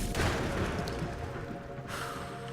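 Explosions from bombs in the dungeon game Legend of Grimrock II, a loud dense burst of booming blasts rolling together over a couple of seconds with a second impact near the end, no talk.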